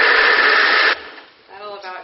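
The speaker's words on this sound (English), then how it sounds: "Is it really loud when I turn the blender on?" A kitchen blender whirs loud and steady for about a second, then cuts out abruptly as a voice starts talking.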